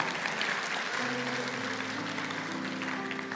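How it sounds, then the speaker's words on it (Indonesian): A church congregation applauds warmly during a sermon, a steady, dense clapping that fills the room, with sustained organ-like music tones joining underneath partway through. "kasih tepuk tangan bagi Tuhan"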